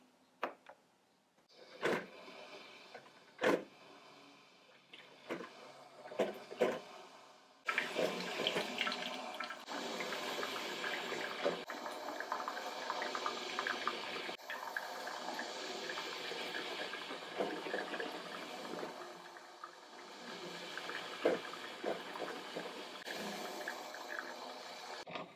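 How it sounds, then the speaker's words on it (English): A Cuisinart Coffee Center 2-in-1 coffeemaker brewing six cups, starting with a few sharp clicks and taps, then a steady gurgling, trickling flow of water that runs continuously at moderate loudness. "It took 5 minutes to brew the 6 cups of coffee."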